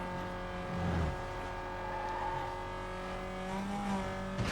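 A tuned Mitsubishi engine in the Need for Speed: Most Wanted (2005, PS2) racing game drones at a steady pitch with small rises and dips in revs, sustained and fairly close throughout.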